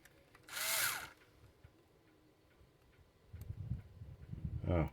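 A power drill on a sailboat, with a short high whining burst of the drill boring into wood, then quieter clicks and handling, and a louder rising drill whine with low rumble at the end.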